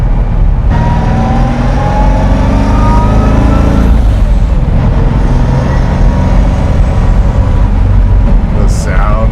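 A 1,400 hp twin-turbo custom Pontiac Firebird sounds loud and close, its engine roaring continuously with rising and falling revs and turbo whine, and a short hiss near the end.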